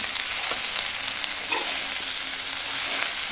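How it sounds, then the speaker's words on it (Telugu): Mint and coriander leaves fry in a pan over medium flame for chutney, giving a dense, even sizzle close up with a few faint stirring scrapes. "మనం మీడియం ఫ్లేమ్లో అయితే బాగా వేగుతాయి. అన్నీ బాగా మంచిగా మనకి ఫ్రై అవుతాయి."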